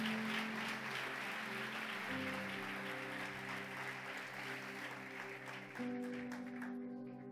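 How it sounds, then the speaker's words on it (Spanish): Loud, sustained applause from a church congregation during a Spanish-language sermon, with steady music tones running underneath the clapping throughout. "Dale un aplauso fuerte a Jesús."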